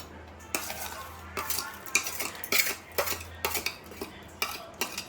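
Ingredients for a ridge gourd peel chutney go into a mixer grinder jar, a series of sharp metallic clinks and scrapes from a spoon against steel, roughly evenly spaced and close, with no talking.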